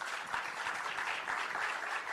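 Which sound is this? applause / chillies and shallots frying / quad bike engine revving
applause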